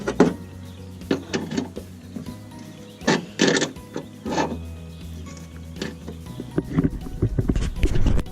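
A 1/2 inch tap being turned by hand to retap a hole for a fishing rod holder, giving irregular metallic clicks, scrapes and ratcheting bursts at close range with no talk.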